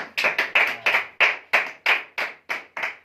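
A church congregation claps together during a sermon in a steady, evenly spaced rhythm of about ten sharp, crisp claps. The claps are close and distinct, with quiet gaps between them.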